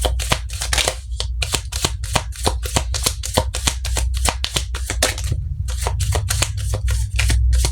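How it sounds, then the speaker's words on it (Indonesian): Tarot deck shuffled by hand, a rapid close run of crisp riffling card flicks that continues steadily with a brief pause midway, no voices. "Kita shuffle dulu kartunya, kita lihat energi kalian."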